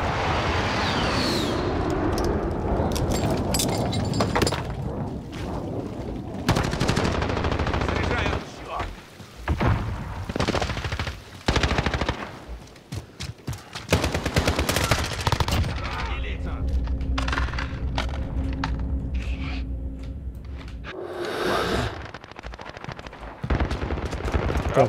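Sentry turret in Call of Duty Modern Warfare multiplayer, firing loud rapid automatic bursts across much of the scene amid explosions and battlefield din, with a lull and a sustained mechanical hum toward the end.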